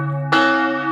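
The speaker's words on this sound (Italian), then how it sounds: "state ascoltando il suono melodioso delle campane della chiesa parrocchiale" Parish church bells ring out at Zugliano in Friuli, a steady sustained toll that swells suddenly louder partway through, rich overlapping tones lingering without a pause.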